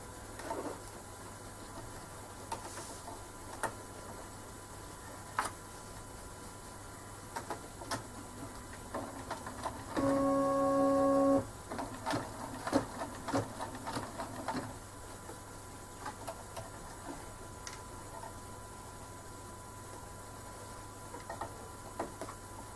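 An embroidery machine sews decorative stitching in a second thread colour for a tissue holder, a steady run of quiet clicks and ticks with a brief louder whirring burst in the middle, close by and alone.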